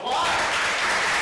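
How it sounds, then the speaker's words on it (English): An audience at a high school poetry awards ceremony breaks into warm applause, a brief dense burst of clapping filling the room. "What about a warm round of applause?"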